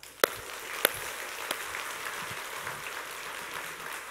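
A church congregation at a Sunday service claps together, a soft, even wash of many hands heard from a distance, with a few sharper claps standing out near the start.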